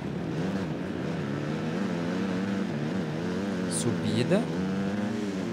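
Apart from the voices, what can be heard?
motocross bike engine revving in video game MXGP 2019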